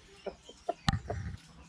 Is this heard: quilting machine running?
no